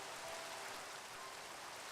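Steady rain falling in Minecraft Skyblock, a faint, even hiss of raindrops with no breaks, heard alone.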